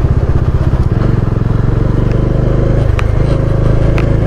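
Motorcycle engine drones steadily close by on a Himalayan mountain road between Sarahan and Sangla, loud and continuous with a low rumble, light clatter and wind noise throughout.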